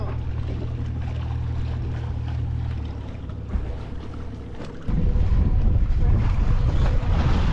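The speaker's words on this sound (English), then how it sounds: "The wind, a little bit." Wind roars steadily across a sailboat at sea off Mexico's Pacific coast, a broad rushing noise with microphone buffeting that grows louder and rougher partway through, with no clear talking.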